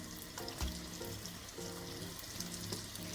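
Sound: pastries frying in oil in a pan

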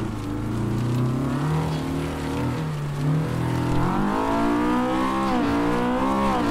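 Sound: racing car engine revving, from video game

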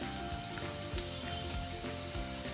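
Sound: garlic sizzling and frying in a pan

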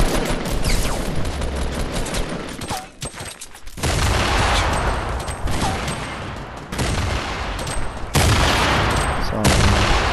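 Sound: grenade explosions in Fortnite video game

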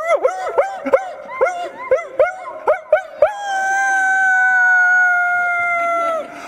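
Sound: people imitating a dog howling

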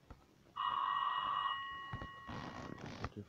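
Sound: telephone ringing in the video game Cube Escape: The Mill

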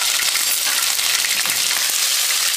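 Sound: frying in oil after chicken

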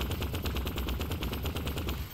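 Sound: rifle firing in auto mode, from video game Vertigo Remastered

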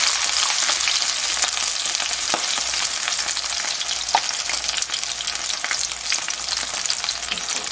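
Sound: seafood green onion pancake batter spattering in a frying pan

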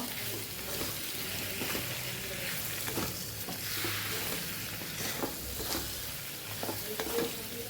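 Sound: stirring and frying dry vegetable bhaji in a pan

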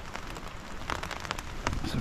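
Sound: rain falling

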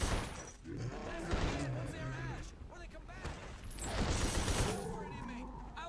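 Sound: gunfire in the video game The Suffering

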